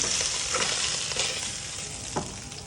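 A fish head frying with spices in a pan, a continuous moderate sizzle broken by occasional stirring scrapes, no talking.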